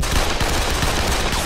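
Animated cartoon gunfire from dream bullets in South Park, a dense, continuous rattle of rapid shots with no pauses, loud and close throughout.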